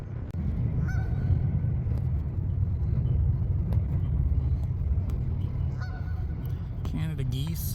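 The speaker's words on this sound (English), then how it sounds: "Canada geese, also sometimes called cobra chickens." Canada geese, both juveniles and mature adults, honk now and then over a steady low rumble of road traffic, with a few louder calls near the end.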